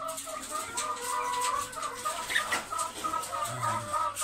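A hen kept in a cage battery clucks close by, soft repeated calls over a low indoor background.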